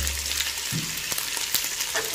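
Chopped beans, capsicum, carrot and spring onion sizzling in a pan for fried rice, a steady hot crackle with a few light stirring scrapes and no talk.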